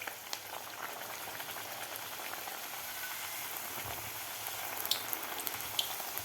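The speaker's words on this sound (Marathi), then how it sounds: "व्यवस्थित असं तेल आपलं गरम झालेलं आहे. आता यामध्ये आपल्याला पुरी सोडायची आहे." Green pea masala puri fries in hot oil, giving a continuous, dense bubbling hiss up close with faint crackles and occasional light utensil clicks.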